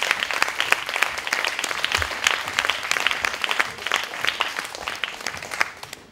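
An audience at a Jean Claude Biguine salon event at the BBox claps steadily and densely for several seconds, the applause full and close with no speech over it, thinning slightly toward the end.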